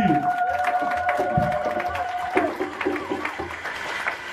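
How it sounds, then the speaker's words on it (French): A church congregation cheers and claps in acclaim at a worship service, with a lively crowd of mixed applause and voices and a sustained tone running beneath at moderate loudness. "donnons des acclamations à Jésus."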